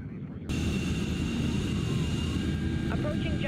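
A steady, loud aircraft engine drone cuts in abruptly and holds as an even roar during a plane's jump run in the Splinter Cell game.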